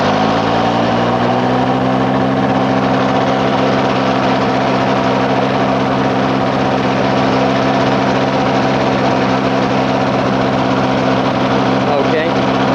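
A propeller aircraft engine starts and settles into a steady, loud idle with a low droning hum, running continuously throughout.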